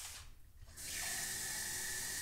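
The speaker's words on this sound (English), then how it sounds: "so I'm going to add some water" Water poured into a pot of homemade vegetable soup thickened with coconut milk: after a brief near-silent moment, a close, steady rushing hiss of liquid begins and continues without a break.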